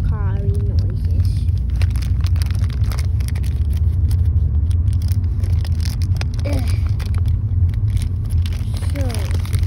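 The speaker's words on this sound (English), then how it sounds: "I am in the car, so you can hear some car-y noises." Steady low rumble of a car interior while driving, constant road and engine noise with occasional small squeaks and rattles.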